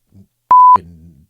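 One short electronic beep, a steady pure tone about a quarter second long, sounding between brief low murmurs.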